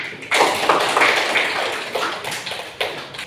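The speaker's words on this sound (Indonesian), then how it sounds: "tepuk tangan dulu nak" Young pupils in a primary-school religious lesson clap their hands together on a teacher's cue, a series of sharp, fairly close claps in an uneven rhythm lasting a few seconds.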